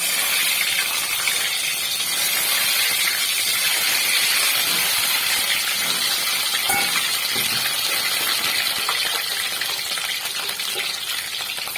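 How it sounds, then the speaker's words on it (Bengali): Boiled eggs frying in oil in a pan: a steady, loud broadband sizzle and hiss throughout with small spits and pops, close up and unbroken, no talking. "ডিমগুলো সেদ্ধ হয়ে গেছে, এবার আমি ডিমগুলোকে ভেজে নেব।"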